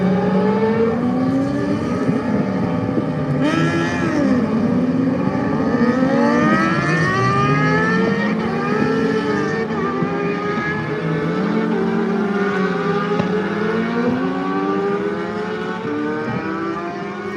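Racing engines warm up and the first riders set off in an amateur class of a road circuit race, several engines revving and wailing together at high, swooping pitches, loud and continuous, with no talk.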